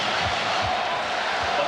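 A packed Chicago Stadium crowd roars at a Bulls versus Blazers NBA Finals basketball game, a dense continuous rumble of cheering with a few faint ball bounces underneath.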